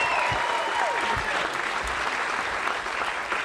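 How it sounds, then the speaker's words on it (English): A comedy show audience applauds a comedian after his first big show, steady dense clapping filling the room with a whistle or cheer near the start and continuous applause throughout. "So y'all give it up for him."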